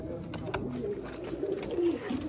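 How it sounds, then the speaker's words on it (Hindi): Pigeons cooing at a bird-keeper's loft in Karachi, soft repeated low coos close by mixed with occasional wing flutters, while someone talks over them. "बहुत ही आला और लाजवाब दोस्तों कबूतर।"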